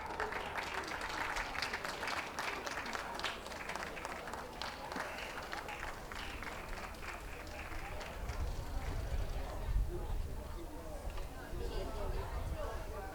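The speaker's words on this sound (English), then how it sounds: "last chance to cheer on your favourite" Dog show audience applauding and cheering for an Alaskan Malamute, a faint, continuous patter of clapping with scattered voices, swelling slightly toward the end.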